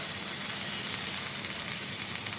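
Sweet corn frying in a pan over high heat as its water cooks off gives a steady, even sizzle that stays level throughout, heard close with no talking.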